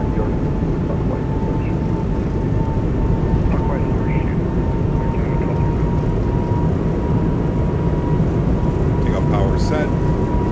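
Airbus A220 engines hold a steady, dense roar at takeoff power in a flight simulator, with a constant whine running through it and brief faint voices over the top.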